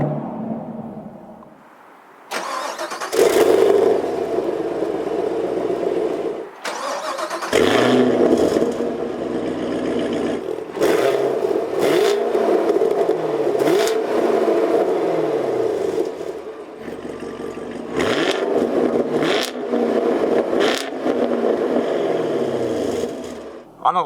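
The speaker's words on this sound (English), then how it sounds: "The exhaust valve's open and then it sounds really nice." A 2019 Chevrolet Camaro SS 1LE V8 with its exhaust valves open revs in loud repeated bursts, engine note rising and falling between short pauses, close and powerful, with a voice talking over parts of it.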